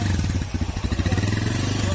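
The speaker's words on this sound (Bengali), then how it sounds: "বাইকটি খুবই সুন্দর সাউন্ড এসেছে" A Bajaj 4S Champion motorcycle engine runs at a steady idle close by, its low, even chug pulsing rhythmically for the whole stretch after a repair.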